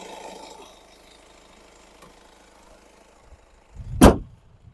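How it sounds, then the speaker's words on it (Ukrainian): After a quiet stretch with a faint diesel engine hum, the hood of a 2012 Kia Sportage 2.0 diesel slams shut in one loud, close, heavy thud. "Закриємо капот."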